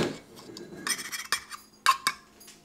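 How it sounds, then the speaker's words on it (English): A spoon stirs dry oatmeal ingredients with salt in a bowl, making quiet, irregular scrapes and a few sharp clinks against the dish over a couple of seconds, with no talking. "And then we're just gonna stir this all together."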